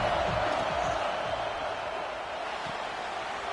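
A stadium crowd in the college football video game NCAA 26 roars in a steady, dense wash of noise throughout, loud and continuous with no clear breaks.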